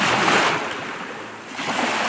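Sea waves at a beach in Magunawit, a loud close rush of surf and wind that swells, eases briefly and surges again.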